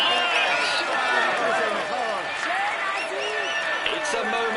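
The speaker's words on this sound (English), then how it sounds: "Come on, let's applaud him once more." A large roadside crowd applauds and cheers Wout van Aert in the yellow jersey at the Tour de France in Denmark, a dense, steady roar of clapping with whistles and shouts that fills the whole stretch.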